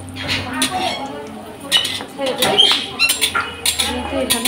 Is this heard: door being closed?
no